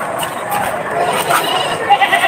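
Several goats bleat together outdoors in a loud, continuous chorus of overlapping cries, with some voices audible underneath.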